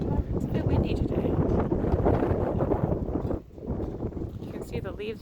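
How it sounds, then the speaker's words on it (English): Strong wind buffets the microphone outdoors on a farm, a loud, rough rumble that dips briefly and then returns. "It's a bit windy today."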